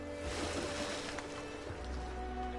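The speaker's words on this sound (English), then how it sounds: "Oh, I'm gonna have to row too?" In the video game Detroit: Become Human, a boat is rowed across open water, with a steady wash of waves and splashing against a low hum and mechanical tones, continuous and fairly loud, with no talk.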